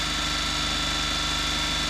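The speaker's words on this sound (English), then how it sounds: "I started up the engine to take a look." A Suzuki Carry's F6A SOHC three-cylinder engine idles steadily just after start-up, a close, constant low mechanical hum with even rhythmic pulsing and no voices.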